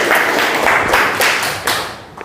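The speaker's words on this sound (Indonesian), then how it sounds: "Silakan duduk dan tepuk tangan ya untuk Dena." Classroom group applauding a student in Indonesia, a short burst of dense clapping that swells and tapers over about two seconds.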